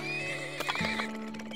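Horses neigh in the video game Turmoil, a loud close whinny with clip-clop hoofbeats, brief and alone.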